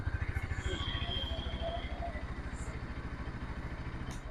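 A 2024 Bajaj Pulsar NS200 motorcycle engine idles close by with a steady, even thumping pulse, and brief higher tones are heard over it.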